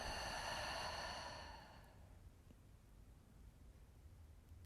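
One slow, long breath is pushed out through the mouth, a soft airy exhale that fades away over about two seconds into near silence. It sounds close and quiet.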